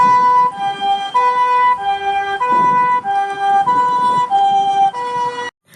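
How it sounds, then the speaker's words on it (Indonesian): Toy ambulance siren wailing in a steady two-tone pattern, loud and close, repeating several times before cutting off abruptly. "Yang ini mobil ambulan."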